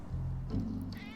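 Cats meow in the video game Final Fantasy VII Remake, a short drawn-out mew followed by another, fairly close, with faint game background sound.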